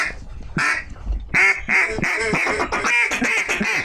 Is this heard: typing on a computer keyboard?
no